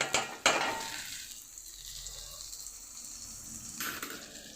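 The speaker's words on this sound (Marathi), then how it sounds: "असं कांदा लालसर होत आला, याच्यामध्ये बघा घरचं आपलं साजूक तूप टाकलं" Onions turning reddish-brown fry with a steady, soft sizzle in homemade ghee, opening with a couple of sharp clatters of a stirring spoon against the pan and a brief flare of crackle near the end.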